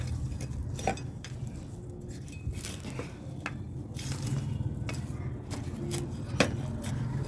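Hands or a trowel work fertilizer into potting soil for a lemon plant on a terrace, producing close, continuous gritty rustling and crunching with scattered sharper scrapes and no talk.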